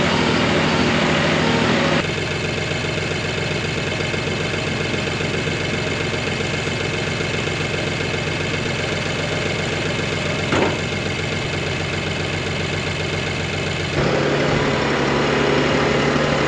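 A farm tractor idles in a steady, unbroken mechanical drone, close and loud throughout, with no voices.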